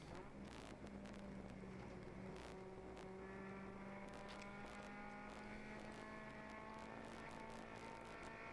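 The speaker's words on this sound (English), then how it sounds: "Sounds like a 4-cylinder." A four-cylinder race car engine drones steadily throughout, heard from an in-car camera during a 24-hour endurance race at Nelson Ledges, its tone held fairly constant and moderately loud under some broadband road and wind noise.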